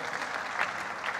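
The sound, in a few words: audience applause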